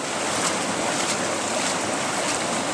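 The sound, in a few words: rinsing the tray with water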